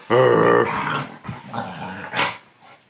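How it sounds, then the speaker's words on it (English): Dogs growl and snarl close by, a harsh rumbling burst followed by more grumbling growls and a sharp yip near the end. "dogs were like sleeping until I started making this. They were doing nothing, and now they want to fight."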